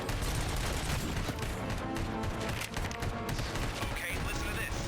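ED-209 robot firing in the video game RoboCop: Rogue City, a rapid, sustained burst of heavy automatic gunfire with clattering mechanical detail, dense and continuous, held at moderate level throughout.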